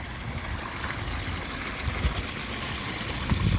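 A backyard pond waterfall fed by a 5,200 gallon per hour pump through a 26-inch weir box pours steadily, a constant close splashing rush of falling water with no voices.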